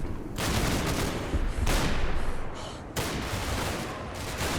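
Rifle fire in Combat Mission: Battle for Normandy crackles as dense, overlapping bursts of gunshots, loud and sustained with brief gaps between volleys, and no talking.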